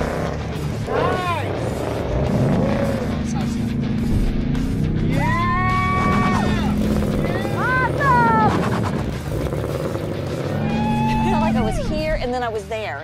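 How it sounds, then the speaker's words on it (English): A 2024 Ford Mustang with manual clutch launches from a standstill on a skid pad, engine roaring loud and close through rising revs and gear changes, with excited voices talking and cheering over it. "press track apps, launch control button right there, and we're ready to go. Let the clutch out, keep it forward."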